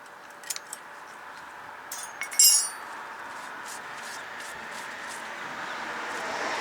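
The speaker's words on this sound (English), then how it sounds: "take all these little metal shims out" Small metal shims being removed from the rear brakes of a 2015 Mazda3, giving a few light metallic clinks and one sharper jangle in a quiet garage.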